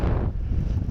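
Wind buffeting a paraglider in flight over the coast at La Guimorais, near Saint-Malo, in a strong breeze: loud, close roaring gusts that blast the microphone, easing slightly after a moment, with no voices.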